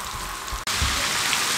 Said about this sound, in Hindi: इसको इस तरीके से डाल देंगे और तकरीबन हम इसको 4 से 5 मिनट मीडियम फ्लेम पे इसको फ्राई होने देंगे।